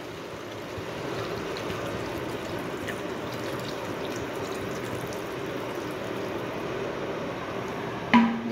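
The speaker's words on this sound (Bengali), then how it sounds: "দেখি জলটা তো দিলাম" Water poured into a cooking pot for curry, a continuous even splashing trickle that runs steadily and close by, ending with a brief clatter.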